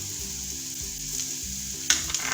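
Onions frying in a pan with ginger-garlic, almonds and cashews give a steady close sizzle, with a spoon scraping and clinking lightly near the end.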